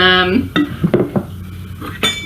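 A tablespoon and a fork clink against a small bowl of ice water with ice cubes, giving a few sharp, close metallic taps and clatters over about two seconds, with no talking.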